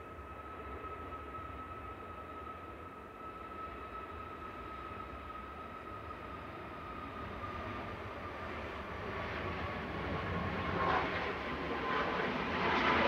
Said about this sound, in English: lined up and ready to go is Ryanair to Bucharest